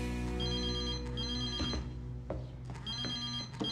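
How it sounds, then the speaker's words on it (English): A phone ringing with a repeated electronic ringtone, bright and steady in a room, with other sounds breaking in between the rings. "I hear my phone ring, and I rush to the phone."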